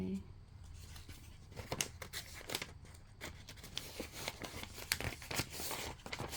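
Sheets of paper are crinkled, handled and torn up close, in irregular sharp bursts of rustling and ripping, with a voice faintly in the background.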